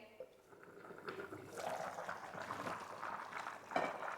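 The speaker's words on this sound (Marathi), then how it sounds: "पुलावला बघा मस्त अशी उकळ आलेली आहे" Masala pulao simmering in a covered pot on a high gas flame, a soft steady bubbling and liquid burble at close range with brief clinks, no talk.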